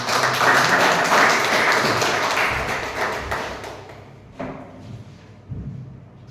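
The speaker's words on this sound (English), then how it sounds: "Please, your round of applause." Audience applause at a Toastmasters club meeting, a dense burst of clapping that gradually thins out, ending with a few scattered thumps and taps.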